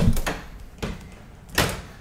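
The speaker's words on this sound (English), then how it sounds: "Open that door for me." A door opens during a house tour, giving a few short thumps and knocks at about 0.2, 0.85 and 1.6 seconds with faint room noise between, fairly close and with no voices.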